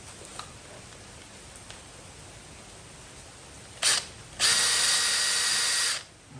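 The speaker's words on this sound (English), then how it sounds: "I'm just drilling holes to get these started." A power drill bores holes into wood to start screws for a permanently installed window air conditioner: a brief whir, then a steady loud drilling run of about a second and a half, close by with no talk.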